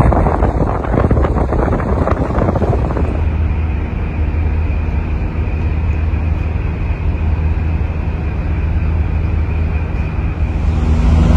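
A ferry running at full speed from Sumbawa to Surabaya, a loud, steady engine and hull rumble with strong wind buffeting the microphone for the first few seconds, then a constant drone.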